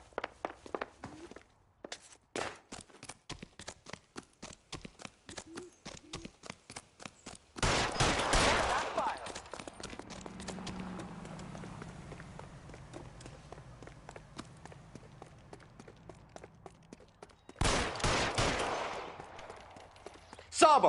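A rapid series of sharp gunshots from a Hollywood Vice crime film scene, fired in quick bursts with a heavy blast and rumbling aftermath midway, then another loud burst near the end; dialogue is spoken amid the shooting.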